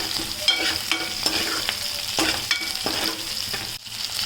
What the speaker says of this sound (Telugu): కట్ చేసి పెట్టుకున్నటువంటి పచ్చిమిర్చి కూడా అందులోకి వేద్దామండి వేసి కొంచెం రోస్ట్ చేసుకుందాం